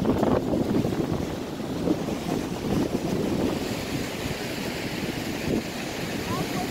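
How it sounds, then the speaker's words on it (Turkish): Niagara Falls water spray pouring down in gusty wind, a steady loud broadband rush with wind buffeting the microphone throughout. "sular yine Niagara'dan üzerimize dökülüyor"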